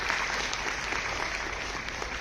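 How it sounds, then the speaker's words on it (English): Applause for students at a program in Kolar, a steady wash of clapping from an audience, fairly far off and even, lasting a couple of seconds without speech. "Big round of applause to all of you."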